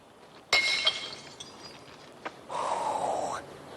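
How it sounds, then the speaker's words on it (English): Household glass containers are dumped into a recycling dumpster: a sharp shattering crash, a few clinks, then a second longer run of breaking and clattering glass lasting about a second, with no voices. "It does feel good when you dump your household glass container into the dumpster. You hear it all break."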